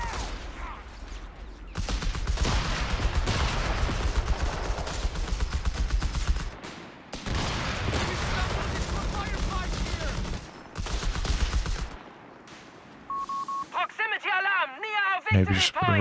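Rapid gunfire from Company of Heroes 3 rattles in dense sustained bursts through a large wartime battle, loud and continuous with short breaks, before a game voice and other battle effects take over near the end.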